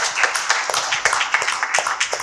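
An audience applauds at a research colloquium on business doctoral studies, a dense patter of many hands clapping steadily at a moderate distance.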